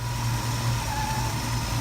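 An International Harvester Scout engine idles hot just after a carburetor rebuild, giving a steady, even low rumble with a constant hum and no talking.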